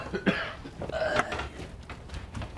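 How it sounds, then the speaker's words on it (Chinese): A person coughs several times at close range, harsh bursts clustered at the start and middle with softer breathy follow-ups. "有点咳嗽了。"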